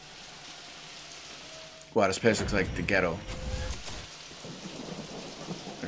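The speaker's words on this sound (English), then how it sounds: "There's a cool rain effect" Steady rain ambience from the Metro Kingdom's New Donk City level in Super Mario Odyssey, with thunder-like rumbling, a continuous wash of rainfall running under a burst of close, loud speech.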